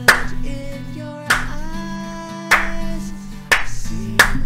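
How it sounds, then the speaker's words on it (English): Sharp hand claps ring out one at a time at uneven intervals, each followed by a sustained hummed tone that shifts pitch between claps. "When he finishes, I give him a round of applause."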